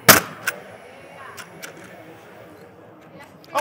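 A Paslode cordless nail gun fires once with a sharp, loud crack at the start, followed by a few faint clicks and a quieter snap at the end.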